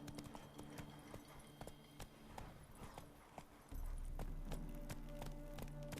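Horse galloping in The Witcher 3: Wild Hunt, rapid rhythmic hoofbeats pounding close and clear, joined by a louder low rumble in the second half, no talk.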